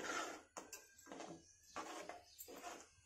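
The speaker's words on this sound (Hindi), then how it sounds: "तले पे स्पून को इस तरीके से लगा चलाते हुए हमें इसे चलाते रहना है" A spoon scrapes along the bottom of a pan of mango halwa cooked with milk in rhythmic back-and-forth strokes, a soft metallic scrape repeating about four times, quiet and close.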